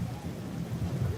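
Steady rain pouring down at a French chateau, a continuous hiss of falling water over a low, rolling rumble.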